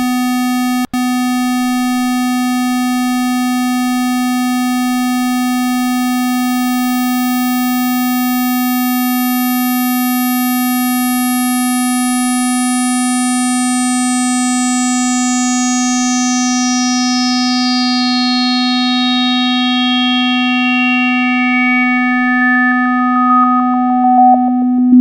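Synthesizer tone passed through a resonant low-pass filter whose cutoff sweeps steadily downward. A bright, buzzy, harmonic-rich note loses its upper harmonics one by one, each briefly boosted as the cutoff passes, until only a pure, loud, sustained sine-like hum remains.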